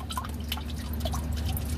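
Engine oil draining from a 2019 Dodge Challenger Hellcat during an oil change, a close, steady pattering trickle of liquid into a pan, continuous throughout with no talking.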